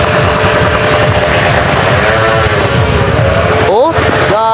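Motorcycle engines rumble loudly and continuously during a New Year's night outing, with one engine revving upward near the end.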